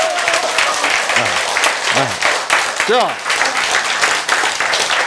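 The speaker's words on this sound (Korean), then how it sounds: "여러분 중에 몇 분은 지금 함성을 지금 올리는데" A Korean lecture audience claps and cheers in a broad wash of applause while the speaker's voice carries over it.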